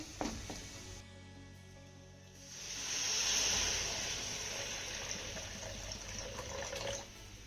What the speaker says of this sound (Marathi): आता यामध्ये आपल्याला एक ते दोन ग्लास गरम पाणी घालायचं आहे